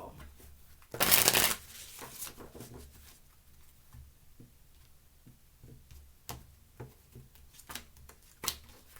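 Tarot cards shuffled in one loud riffle burst, followed by scattered soft taps and flicks as the deck is handled.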